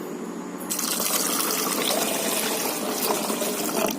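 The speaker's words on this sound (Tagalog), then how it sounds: "Lagyan na natin ng tubig para sabaw." Water pours steadily into a pot of boiled jackfruit seeds to make a soup broth for the rice cooker, a continuous splashing fill that starts abruptly and runs close and loud without talk.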